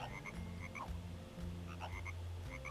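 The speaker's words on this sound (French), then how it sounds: "Voilà, la petite grenouille." A frog in a PSP video game, emulated on an ODROID XU4, gives short repeated croaks in small clusters over a soft, steady background, with no talking.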